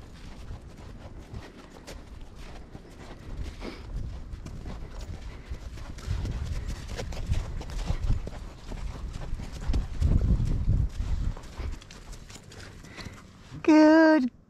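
Hooves of a horse clopping on a walk, an irregular series of dull thuds that grow louder midway, ending with a brief voiced sound.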